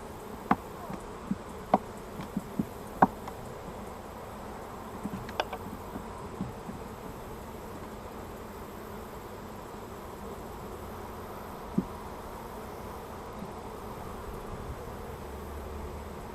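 Honeybees hum steadily in an open hive during a late-August beekeeping inspection, a constant close drone broken by a few sharp clicks and taps of frames being handled.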